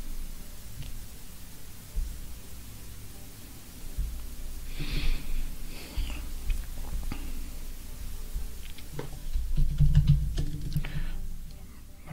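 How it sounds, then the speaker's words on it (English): Typing a prompt on a computer keyboard in Microsoft Copilot, heard as a few soft, scattered key taps, fairly quiet against low background noise and some breathing. "I'm going to type up a prompt saying, explain me this image."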